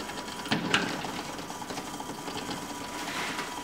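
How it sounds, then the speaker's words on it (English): A small DC motor driven by Arduino PWM whirs steadily nearby with a slight flutter and faint ticks, and no voices. "The motor will change rotating direction."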